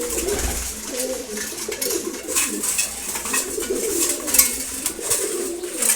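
Soft, low cooing of adult racing pigeons repeats through the clip over a steady bed of rustling and flutter, with birds close by and no talking.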